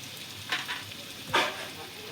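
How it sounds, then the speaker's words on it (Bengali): Ash gourd vegetables dropped into hot tempered oil for a Bengali chal kumro dish, giving a soft crackling fry with two brief sizzling bursts as pieces land and are stirred, fairly quiet and close. "ফোড়নটা হয়ে গেছে, এবার আমি সবজিগুলো দিয়ে দেবো।"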